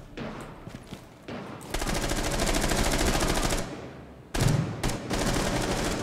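Gunfire from the video game Rainbow Six Siege, with long sustained bursts of rapid automatic fire broken by short pauses and a few isolated shots, loud and close.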